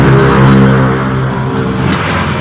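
The starter of a Toyota RAV4 with a hard-starting hot engine is heard up close as a loud, steady mechanical whine that holds and then fades, with a few faint clicks near the end.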